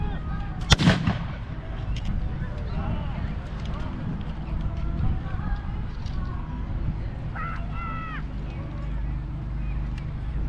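A French line fires a volley at a battle reenactment in an open field: one sharp, loud report near the start, then wind-buffeted outdoor ambience with a commentator talking over it.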